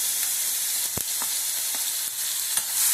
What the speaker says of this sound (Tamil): நம்ம எடுத்து வச்சுருக்க வெங்காயம், தக்காளி, பச்சை மிளகாய் எல்லாத்தையும் சேர்த்து நல்லா வதக்கிக்கலாம்